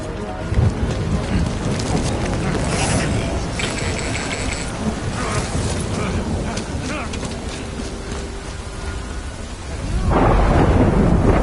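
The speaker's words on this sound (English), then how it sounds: "Good thing it was raining." Heavy rain and rolling thunder in the video game Death Stranding form a dense, loud, continuous roar, with a deeper thunder surge swelling near the end and faint voices mixed under the downpour.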